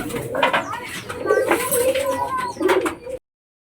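Lotan pigeons coo in low, throaty rolling calls close by, layered over one another with faint background voices, stopping abruptly after about three seconds.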